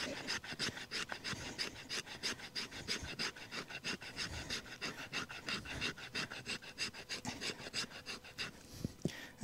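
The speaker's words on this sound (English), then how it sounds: "let's do a little bit of scraping with the Za-Paz Expendable" A Za-Paz Expendable large survival knife scrapes dry birch wood in steady, rapid rasping strokes, close and fairly loud, with an even back-and-forth rhythm and no talking.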